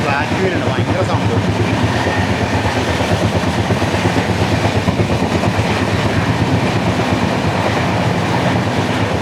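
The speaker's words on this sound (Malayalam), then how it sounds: "ഇവിടെ ഫ്ലാറ്റ് വീലുണ്ട്, ഭയങ്കര സൗണ്ട്." A Humsafar Express passenger coach with a flat wheel, heard near the coach door as a loud, steady, rhythmic rattle and thump on the rails, with a voice faintly under the din.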